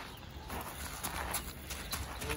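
A horse in early natural-horsemanship groundwork takes a few slow steps, hooves clip-clopping softly and fairly close over a steady low background, with no talk heard.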